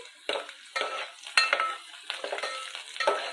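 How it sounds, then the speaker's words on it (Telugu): Pieces of onion and green chilli frying in oil over a high flame, a steady crackling sizzle broken by several stirring scrapes, close and clear with no talk. "ఆయిల్లో onion pieces and green chilli pieces ఏ విధంగా ఫ్రై అవుతున్నాయి"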